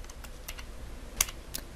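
Quick keystrokes on a computer keyboard type a search into a browser tab, a short burst of light clicks at close range with no talking.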